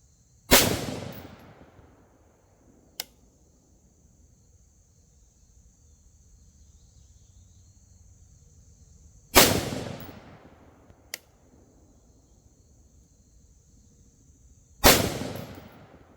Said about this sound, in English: All right, so there's our last shots.